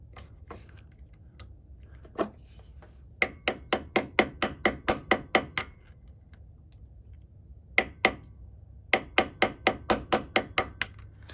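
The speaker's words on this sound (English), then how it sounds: "I don't feel good about hitting on my nice little screwdriver" A hammer strikes a screwdriver while restoring an old Walden ratchet: sharp metallic taps, a few isolated hits, then two quick runs of about eight to ten evenly spaced blows, close and loud against a quiet background.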